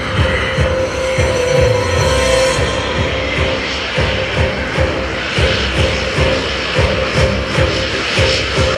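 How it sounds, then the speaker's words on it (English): An F-22 Raptor jet from the 1st Fighter Wing flies past at an air show, a loud, continuous roaring engine rumble with throbbing low pulses that holds steady throughout, no speech. "The F-22 Raptor from right here at the 1st Fighter Wing."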